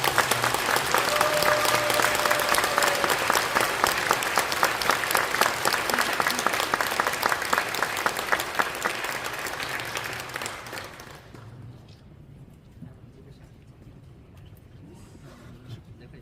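A church congregation at a general assembly applauds honored members, a thick sustained clapping that holds for about ten seconds, then fades out abruptly into quiet room tone.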